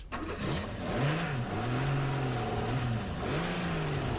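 A car engine strains downhill in first gear in an audio drama effect, a steady close droning growl whose pitch wavers up and down throughout, with no talking.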